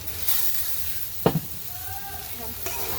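Kalmi greens (water spinach) fry in a pan with a soft, steady sizzle, broken by a sharp clatter or stir near the middle and a lighter tap near the end.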